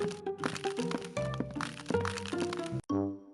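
Crisp crunching and crackling sound effect in a children's story, a quick series of dry snaps and crunches packed closely together, ending with one sharp crack.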